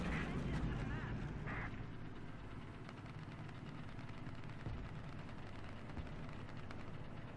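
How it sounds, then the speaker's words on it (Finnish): Gunfire and heavy battle noise in the video game War Thunder, a dense continuous rumble of shots and blasts with no clear gaps, steady and fairly loud throughout. "Joku ampuu jostain."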